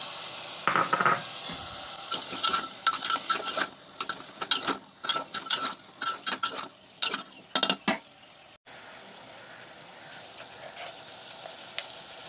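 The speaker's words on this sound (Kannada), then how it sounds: "ಟೊಮೆಟೊ ಆ್ಯಡ್ ಮಾಡಿದ್ಮೇಲೆ ಚೆನ್ನಾಗಿ ಮಿಕ್ಸ್ ಮಾಡ್ಕೊಳ್ಳೋಣ" Potatoes and tomato being stirred in a pan for a potato gravy, with a run of scraping, clattering spoon strokes against the pan over a soft sizzle, then the stirring stops and only a quiet hiss remains.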